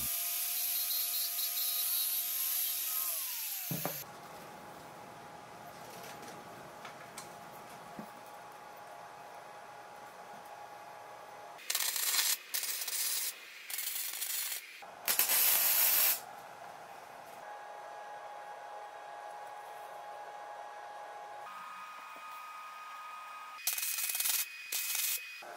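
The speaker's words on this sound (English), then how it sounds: "I used the angle grinder to notch them this time" An angle grinder notches steel DOM tubing for an electric motorcycle trellis chassis: a loud whine that winds down after a few seconds, then a quiet stretch broken by several short, harsh grinding bursts.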